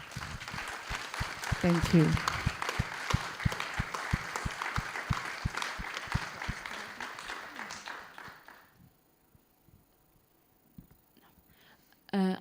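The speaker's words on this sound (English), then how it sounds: "please just give them a round of applause right now" Audience applause at a human rights conference during EuroPride in Belgrade, a burst of loud, dense clapping with sharp individual claps and a brief vocal note, dying away after about eight seconds into quiet with a short spoken thanks.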